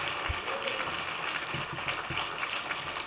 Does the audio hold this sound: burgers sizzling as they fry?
no